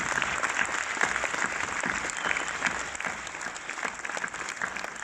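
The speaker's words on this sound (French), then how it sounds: "Vous pouvez applaudir." A cinema audience at a film preview in Orléans applauds actress Yolande Moreau, steady dense clapping sustained throughout, fairly loud and close with no talking over it.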